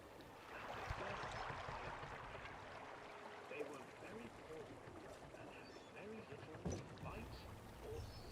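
Paddling swan boat glides across water in the video game The Park, a steady lapping and splashing wash that continues through the ride with a few brief knocks, no talking.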